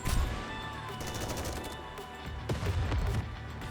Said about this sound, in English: Shots and loud noises can be heard everywhere.